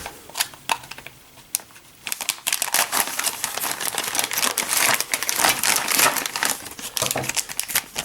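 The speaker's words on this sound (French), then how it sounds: "On va déballer tout ça vite fait." Crinkling plastic and paper packaging of an Eaglemoss Ecto-1 1/8 scale model kit being unwrapped, with dense bursts of rustling, crumpling and sharp crackles continuing throughout, close and fairly loud.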